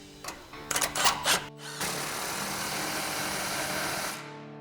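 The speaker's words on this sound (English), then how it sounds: "I'm gonna switch to our 15mm socket and tighten our first clamp here." A power tool tightens a 15mm exhaust clamp on a GMC Sierra 1500: a few short rattling bursts, then one sustained whirring run of about two and a half seconds, close and moderately loud.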